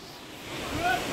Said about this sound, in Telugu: వాటర్ ఫాల్ సౌండ్ అయితే ఇక్కడ వరకు అయితే వస్తుంది